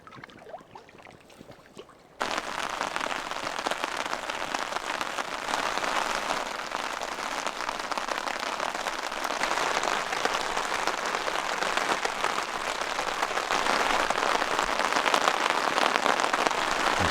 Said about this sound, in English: There's something about sitting under a tarp, listening to the rain.